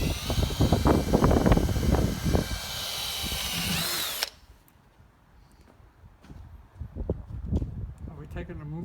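A power drill whines steadily for a few seconds drilling holes for a rear window in a 1998 Roadtrek 200 camper van, then cuts out, leaving scattered knocks and handling noise as people talk nearby.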